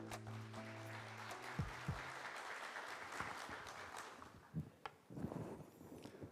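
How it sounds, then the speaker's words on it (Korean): An audience at a quantum information week opening ceremony claps to welcome a speaker to the stage, quiet, distant applause that thins out, with a few louder knocks and footsteps near the end. "큰 박수로 환영해 주십시오."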